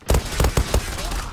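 Close, sharp bursts of gunfire from an online shooter game, Zula, fired with a UMP45: four quick shots in a rapid irregular rhythm over a dense game soundscape.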